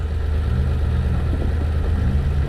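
A tractor engine running on farmland being prepared, a steady low throbbing drone with a faint pulsing rhythm that stays close and even throughout, with no talking.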